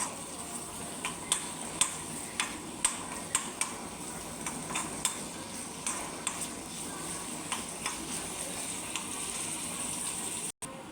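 Coconut pieces sizzle steadily in a pan while being browned for a chicken feet curry, a spoon clicking against the pan at irregular intervals, fairly quiet and close.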